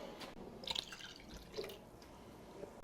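Water trickling and dripping into a measuring cup for canning in a home kitchen, faint and close, with a few brief splashy drips and no talking.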